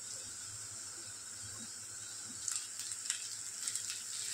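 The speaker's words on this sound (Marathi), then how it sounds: "फक्त कांदा हा खूप बारीक कापून घ्यायचा आहे. फ्राय करून घेऊया आता आपण." A steady, soft sizzle of finely chopped onion frying in a pan, with faint crackles and pops growing slightly livelier toward the end; no voices.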